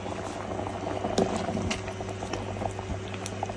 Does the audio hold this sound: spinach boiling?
yes